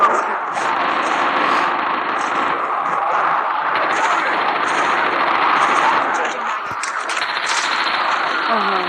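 Rapid automatic gunfire in the Call of Duty video game, a dense, loud, sustained stream of shots over a steady rumble, with brief pauses.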